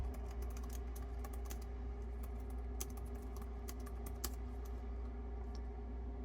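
Steady, quiet clicking of keys on a Boox Note Max keyboard case, light taps in an uneven rhythm over a constant low hum, with no voices.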